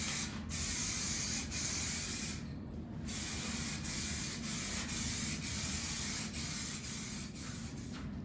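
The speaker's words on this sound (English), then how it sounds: "let's put some primer on it" An aerosol can spraying primer onto a budget DIY speaker cabinet, a loud, steady hiss lasting about eight seconds, broken by a brief pause and a few faint clicks, with no talk.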